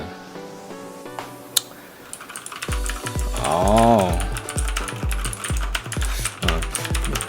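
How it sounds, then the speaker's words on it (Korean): Bare fingers type on an ABKO HACKER K8500 mechanical keyboard with crystal keycaps, a close, rapid run of clacking keystrokes with a brief hum in the middle, while a man utters a couple of short sounds. "그냥 맨손으로 한번 타이핑을 해볼게요"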